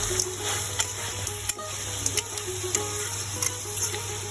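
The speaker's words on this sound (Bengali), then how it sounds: "এখন আমি খুব সুন্দর করে নাড়াচাড়া দিয়ে নিচ্ছি হাঁস পাখিটা" Duck meat is stirred and fried in a pan, giving a soft continuous sizzle with scattered scraping clicks of the spoon at an uneven rhythm, close by, under a low steady hum.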